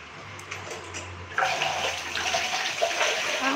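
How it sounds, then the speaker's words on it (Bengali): Running tap water while hands are washed after mixing fish in a home kitchen: a quiet lead-in, then a steady close splashing gush that continues to the end. "আমি হাতটা ধুয়ে নিই"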